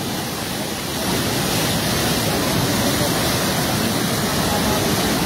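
Floodwater rushing after dam gates were opened during heavy rain, a loud, unbroken roar that holds steady and grows slightly fuller after the first second.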